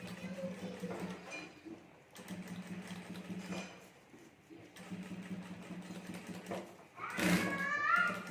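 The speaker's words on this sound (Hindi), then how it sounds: "और अब यहाँ मैं सिलाई कर देता हूँ" Sewing machine stitching a clutch bag, running in three steady bursts separated by short pauses, followed by a brief louder clatter near the end.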